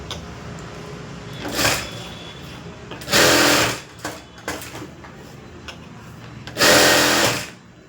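A sewing machine stitches lining to a boat neck blouse in three separate runs, each a loud, steady whir lasting about a second, with short handling noises and quiet room tone between them and no talking.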